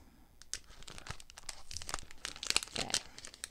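A sticker-like package is picked at and peeled open, giving a continuous close crinkling and crackling of plastic with sharper tearing snaps toward the end.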